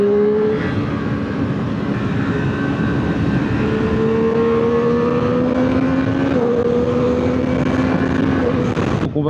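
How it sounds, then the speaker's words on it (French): A Triumph Street Triple 765 RS motorcycle engine drones loudly and steadily, pitch climbing through gears with brief shifts, a continuous close ride with no voices. "Cette moto a un son exceptionnel"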